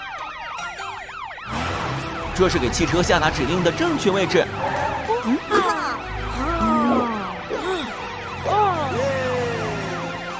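A police car siren in a children's animated cartoon about rescue vehicles wails in rising and falling sweeps, mixed with music and other cartoon sounds while characters talk over it.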